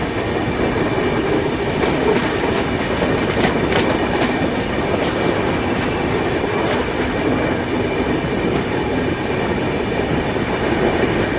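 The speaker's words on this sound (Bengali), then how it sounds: "ট্রেন চলে এলো নৈহাটি" A train running into Naihati station on a Radhikapur Express route in West Bengal, with loud continuous rolling rumble and clickety-clack of wheels over rail joints, steady and close throughout.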